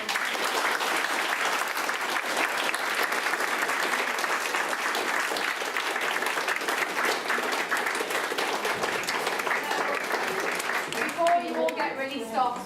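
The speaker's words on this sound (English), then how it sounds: "Give you a round of applause for it." Audience in a hall applauding a panel of young British novelists after a question session, a loud sustained burst of clapping that thins out near the end.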